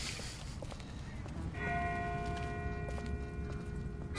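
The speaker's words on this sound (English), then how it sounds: "That's not the same bell as before. This one's further off." A bell in a video game rings from a distance, its sustained tones hanging over a steady outdoor ambience with rustling and soft movement, fairly faint and ringing out alone from midway on.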